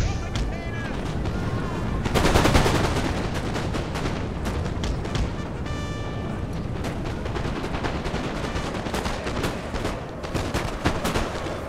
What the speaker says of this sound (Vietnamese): Tôi đấu súng với quân chính trưởng bắn tỉa Pháp à?